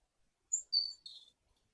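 Three quick, high bird chirps sound alone against silence, a short bright tweet followed by two slightly longer calls, clean and close, a sound clip for an MMO ambience in Unreal Engine.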